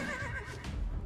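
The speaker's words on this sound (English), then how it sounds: "He's killing my horse." A horse in the survival video game Myth of Empires neighs in distress while being killed, a close whinny with a rough low rumble beneath it and no speech.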